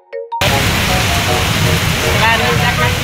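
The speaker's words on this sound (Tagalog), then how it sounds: "Lakas po ng ulan." Heavy rain pours down hard on a flooding street, a dense, loud, steady hiss that starts abruptly after a brief snatch of voices and then fills everything.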